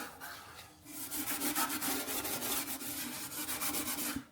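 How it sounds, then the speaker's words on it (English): Abrasive scuffing on the shiny surface of a new chrome oil pan for a 1971 Ford Torino engine makes quick rhythmic back-and-forth rasping strokes, steady and close, after a brief pause at the start, with no voices. "So you just want to scuff it up a little bit"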